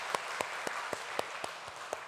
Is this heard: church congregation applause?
yes